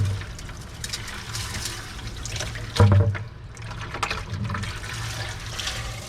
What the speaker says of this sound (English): I just rinse everything through the sieves.